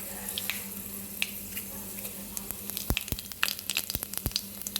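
Cumin and fenugreek seeds crackle in hot oil for a Kerala-style ginger curry, a steady frying hiss broken by sharp, irregular pops that grow denser toward the end.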